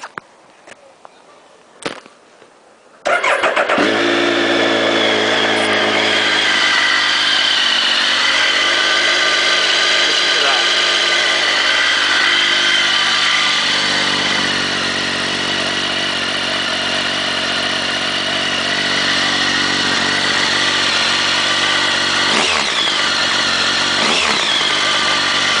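A Triumph 955i motorcycle engine cranks and fires after a few quiet seconds of handling, then settles into a loud, steady idle close by that holds for more than twenty seconds with slight variations.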